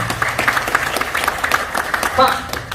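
An audience applauding briefly at a business seminar, scattered rhythmic clapping mixed with a presenter's speech over a steady room hum.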